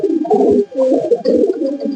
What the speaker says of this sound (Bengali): দুটোই শ্রীলঙ্কা চোখের পায়রা